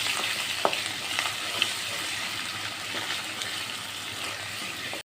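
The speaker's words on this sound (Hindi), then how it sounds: "बस हमने लहसुन अदरक के पेस्ट को भी चंद मिनट के लिए फ्राई कर लिया है" Steady, dense sizzling of garlic-ginger paste frying in hot oil for an egg qorma, with occasional stirring scrapes and small pops, continuous and close.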